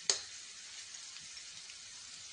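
Cumin and ginger garlic paste hit hot oil with a sudden sizzle that settles into a steady, soft frying crackle, for a tomato rice dish.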